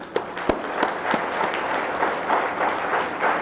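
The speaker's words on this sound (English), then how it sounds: "Let's applaud her for it." An audience at a women, peace and security seminar applauds steadily, a continuous field of clapping with a few sharper individual claps standing out near the start.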